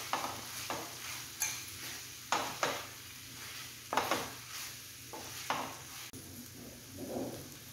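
Restaurant-style bhindi do pyaaza, okra with onions, being stirred in a pan, with repeated scraping strokes of a spoon against metal over a low steady sizzle, the strokes coming in irregular bursts.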